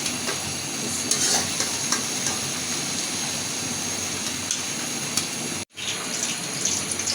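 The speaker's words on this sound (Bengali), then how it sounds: "এই তেলে আমি আলু কটা ভাজিয়ে নেব" Potatoes fry in mustard oil for an egg, potato and eggplant dish, with a loud, dense sizzle close by, steady throughout apart from one very brief drop near the end, and no talking.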